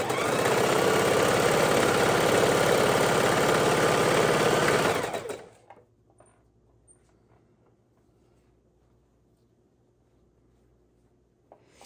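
A sewing machine chain stitches quilt blocks in one loud continuous run for about five seconds, then stops abruptly, leaving near silence with a few faint handling clicks.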